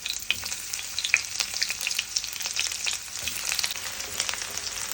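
Onion frying in oil with black cumin on a gas stove for a simple curry, giving a continuous crackling sizzle with dense spitting pops, close up and steady throughout, with no voices.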